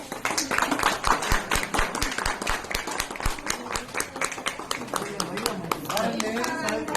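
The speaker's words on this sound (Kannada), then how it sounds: "ಚಪ್ಪಾಳೆ" Dense, fast clapping from a crowd at a local news event, sustained and close, with voices talking throughout over the applause.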